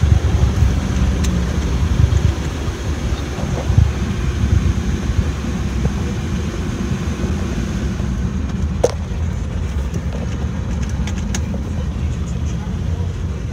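Wind rushes through an open car window as the car accelerates on the road, a loud, steady roar with engine and road rumble beneath, while a person talks over it.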